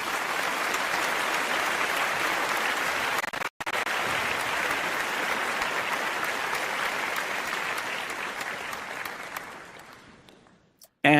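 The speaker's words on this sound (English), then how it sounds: "The Duchess of Sussex is the winner, which of course calls for a round of applause." A round of applause fills the space: dense, sustained clapping from a crowd, loud and close, briefly cut out once, then fading away near the end.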